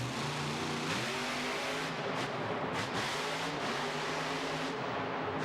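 Gravedigger, a monster truck, revs its engine hard during a power wheelie in a Monster Jam arena, a loud continuous roar with surging and dipping pitch and crowd noise mixed in.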